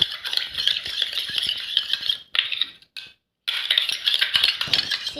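Slime being mixed with activator makes rattling, scraping stir noises, continuous and fairly close, with a brief drop to near silence midway before the mixing resumes.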